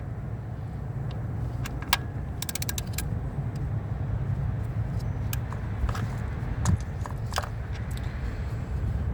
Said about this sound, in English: So as I begin to torque down on this bolt, the crack, it begins to spread just a tiny bit.